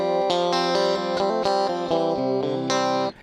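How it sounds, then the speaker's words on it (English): Electric guitar played through a Rockman unit on its clean setting, a run of bright, shimmering picked notes and chords with chorus and reverb, steady and loud, ending abruptly. "Clean 1 is going to mimic, I think it's supposed to mimic like a clean amplifier."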